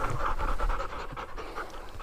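A hunting dog pants hard and rapidly after retrieving a live pheasant on a Colorado rooster hunt, close and steady throughout with no talking.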